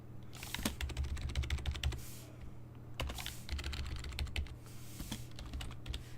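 Fast bursts of key clicks on a computer keyboard while writing HTML, close and crisp, with short pauses between runs and a low hum underneath, no voices.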